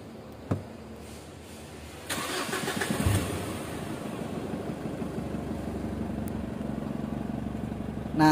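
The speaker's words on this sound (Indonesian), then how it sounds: "Kita coba hidupkan dulu untuk mesinnya" A Mitsubishi Strada Triton pickup with a power-loss fault cranks briefly and starts, then settles into a steady, even idle, heard close and alone with a faint click before the start.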